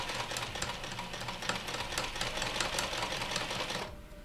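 A sewing machine stitching fabric runs in a steady, rapid mechanical chatter close by for about four seconds, then stops abruptly. No one talks over it.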